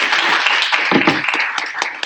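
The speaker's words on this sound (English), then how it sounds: "A round of applause to" Steady audience applause at the PMO India Awards Conference 2023, a dense, continuous crowd clapping that fills the whole moment without a break.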